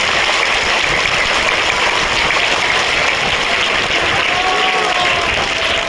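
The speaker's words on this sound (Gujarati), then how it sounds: "તો ફરી એક વખત તાળી પડી જાય બધા કવિ અને લેખકો માટે" Sustained applause from an audience at a mother-language day celebration, honoring poets and writers; a steady, dense wash of clapping that fills the whole stretch without pause, with faint voices mixed underneath.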